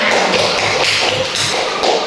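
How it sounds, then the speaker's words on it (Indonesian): A group of children claps for a classmate's team in a classroom, a steady patter of small hands that stays loud and busy across the whole stretch with no talking over it. "Tepuk tangan buat kelompoknya Mas Alfa"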